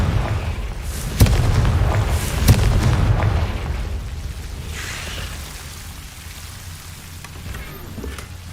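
Fire-blasting Confringo spell exploding in a Harry Potter-style video game: two sharp booming blasts near the start, then a softer rumble, all over a steady rain-like hiss with no talking.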